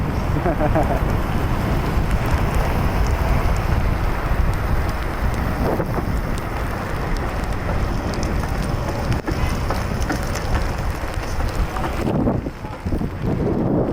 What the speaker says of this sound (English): On the road again, right when the rain comes